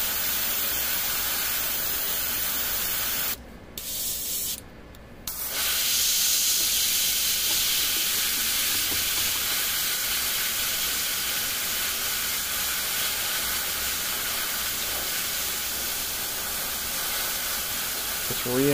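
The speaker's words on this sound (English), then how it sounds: "letting it dry with some air" An air jet blows on a freshly painted Adeptus Mechanicus miniature to dry it, giving a steady close hiss that cuts out twice briefly and then runs on evenly.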